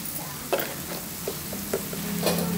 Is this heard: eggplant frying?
yes